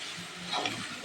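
Chillies being stirred in a hot pan while cooking boiled pork, a steady close sizzle with soft scraping movements and a brief louder stir midway, no voices.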